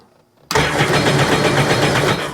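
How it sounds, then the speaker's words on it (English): A 2009 Sea-Doo Wake 215 jet ski engine fires up after a brief quiet moment and roars loudly and steadily at open throttle, a close, continuous mechanical drone with a pulsing tone. "Open the throttle."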